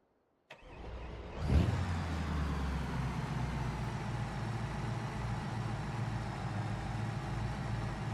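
A car engine in a video game cranks with a sharp starter burst, then settles into a steady, rumbling idle that holds loud and even for several seconds.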